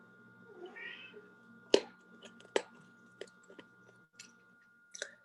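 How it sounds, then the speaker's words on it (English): A house cat meows softly in the background, a drawn-out call followed by a few sharp clicks and taps nearby, with no talking. "did you hear that in the background? Mm-hmm. Meow."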